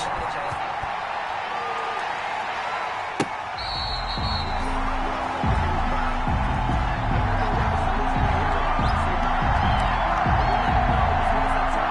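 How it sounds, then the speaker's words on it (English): Stadium crowd noise in a Seattle Seahawks versus Baltimore Ravens football video game, a steady loud roar swelling with rhythmic chanting and stomping under talk. "This crowd is ready as their guys get set to match up between the Seattle Seahawks and the Baltimore Ravens."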